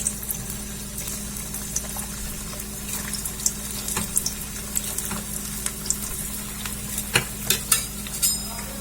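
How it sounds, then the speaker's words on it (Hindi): Malai kofta balls frying in hot oil in a kadhai, giving a continuous bubbling sizzle with scattered crackles and pops that sharpen near the end. The sound is close and steady, with no talking. "अब मैं सारी बॉल्स जो बना के रखी हुई थी उसे हम फ्राई कर लेंगे इस तरीके से"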